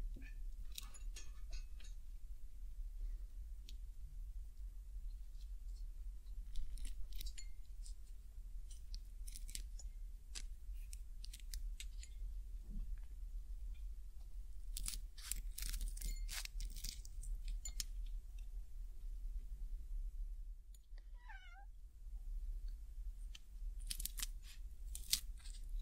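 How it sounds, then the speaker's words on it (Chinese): Scissors snip through freeze-dried cat treats up close, quiet crisp crunching cuts coming in scattered clusters, denser in short bursts, over a low steady hum. "觉得剪冻干的声音也是非常动听的。"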